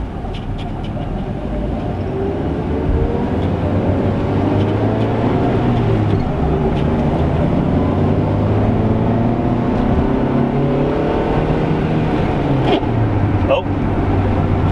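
A Honda Civic daily driver engine revs steadily upward toward its VTEC range, a sustained droning hum with rising pitch heard from inside the car over road noise.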